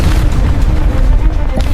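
Deep, sustained rumbling roar of a nuclear blast striking Toronto, loud and continuous with heavy low-end churning throughout and no pause.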